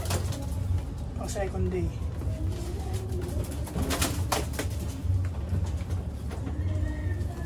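Pigeons cooing in a loft while someone talks over them, with low rhythmic coos mixed with rustling and occasional sharper bird calls close by throughout.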